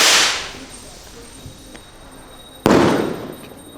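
Firecrackers burst during Deepavali celebrations, two sharp loud cracks about two and a half seconds apart, each trailing off into a hissing decay over quiet outdoor background.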